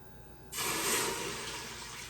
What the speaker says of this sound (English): We got 3 cups of water here.